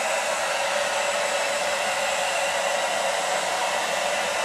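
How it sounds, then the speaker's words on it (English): A blow dryer runs continuously and loud at close range, a steady airy whoosh drying a freshly bathed chicken, with no other sounds. "the next step is to use a blow dryer."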